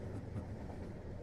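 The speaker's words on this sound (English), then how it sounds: "The way the cars rock along the tracks back and forth, so steady, so hypnotic." A train's cars rock steadily along the tracks in a continuous low rumble, with a faint rhythmic clatter from the rails.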